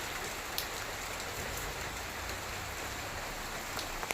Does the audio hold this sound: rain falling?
yes